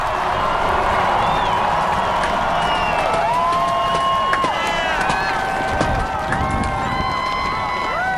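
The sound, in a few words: immense crowd applauding President Obama after inaugural address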